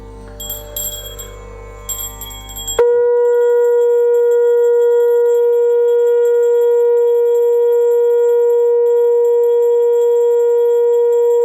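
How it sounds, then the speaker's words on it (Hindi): A bell rings out during a Hindu Bhagwat Katha religious gathering, with a few bright clanging strikes at first, then a long sustained ringing tone that holds steady and loud until the end. "घंटी बजाओ"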